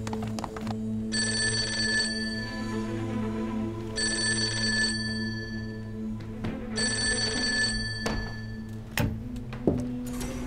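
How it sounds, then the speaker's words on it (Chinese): A telephone in an office rings for an incoming call in three evenly spaced bursts, fairly near against a busy room hum, with a few knocks and clinks near the end. "有王大鼎的电话进来"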